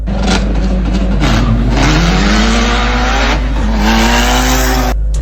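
A Mitsubishi Evo 9 drives past and revs hard, its engine note climbing and falling through several gear pulls, loud and close with a sharp rasping tone and no talking.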